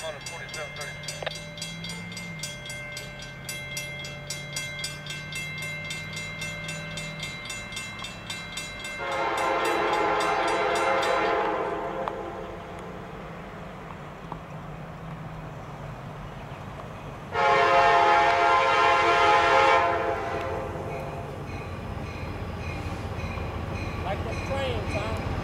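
A freight train rolls past with its locomotive horn sounding two long, loud blasts over the steady rumble and rattle of railcars, and a voice speaks near the start.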